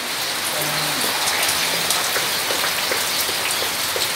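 Steady rain pours down on a farm, a dense, even hiss of drops striking surfaces with scattered sharper patters, loud and continuous throughout with no voices.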